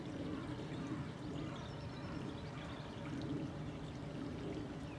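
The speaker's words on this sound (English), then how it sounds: "Just at the footbridge, about to cross the brook again." A brook flowing beneath a footbridge on a wet countryside walk between Mortimer and Theale: faint, steady pouring and trickling water close by, with no talking.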